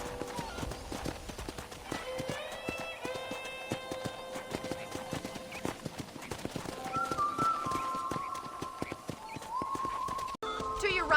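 A horse trots in Red Dead Redemption, steady rhythmic hoof clip-clops running throughout with a brief neigh, accompanied by soft background music and someone talking over it.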